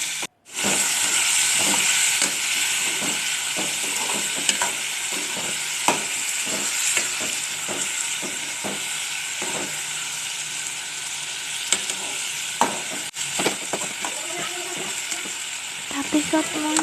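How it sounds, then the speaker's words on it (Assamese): Onion, chili and tomato pieces fry in a pan with a loud, steady sizzle and hiss. Occasional stirring clinks and scrapes sound up close, with no talking. "মই নিমখ দিম, পিঁয়াজ, জলকীয়া আৰু এইখিনি ভাজি ল'ম।"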